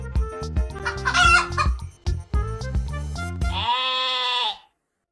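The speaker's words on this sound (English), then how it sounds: "Chicken." A chicken clucks in short bursts over light children's music, then a sheep-like bleat closes the passage.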